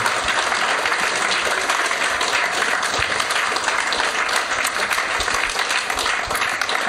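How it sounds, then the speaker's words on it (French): Sustained applause from an audience at a French literary event, dense and steady throughout without pause. "je pense qu'on peut encore faire un tonnerre d'applaudissements pour Guillaume, Ren, Florent, Nicolas et Mud"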